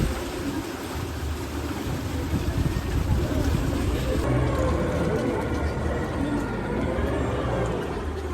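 A boat on a lake in Udaipur gives a steady, loud rumble of engine and water, with wind buffeting the microphone throughout.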